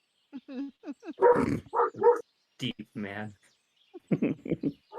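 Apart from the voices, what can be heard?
dog barking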